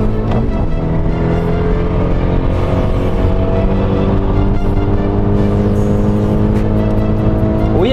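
A Renault car pulls away hard on a road, its engine droning loudly and steadily throughout with rising revs and harmonic pitch changes, no talking over it.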